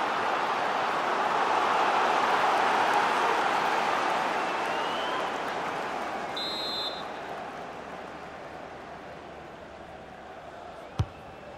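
Stadium football crowd at a Championship playoff semi-final second leg, Coventry against Middlesbrough, sending up a loud, continuous roar and cheering that swells early and slowly eases, with one sharp bang near the end.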